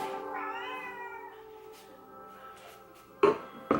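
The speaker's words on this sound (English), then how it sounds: "the cat won't stop meowing." A pet cat meows in a long, drawn-out wail indoors, followed by fainter mews, then two sharp clattering knocks at the end.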